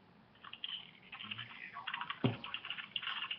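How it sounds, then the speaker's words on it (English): Fingers tap out a question on a computer keyboard, a quiet close run of irregular clicks with a brief thump partway through. "I'll type the question."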